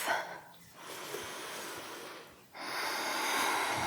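A full, slow breath taken while kneeling with hips on heels during a vinyasa yoga flow: a soft, airy exhale fades out, then a long breathy inhale swells back in, close and steady.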